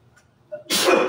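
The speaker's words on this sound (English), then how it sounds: "That must be a good sneeze right there." A single sharp sneeze, close and loud, preceded by a brief inhale.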